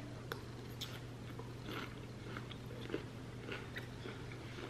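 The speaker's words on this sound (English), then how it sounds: "Those pumpkin seeds add a really good crunch along with the red peppers" Chewing on a crunchy salad of pumpkin seeds, red peppers and red onion, soft scattered crunches and bites, close but quiet over a steady low hum.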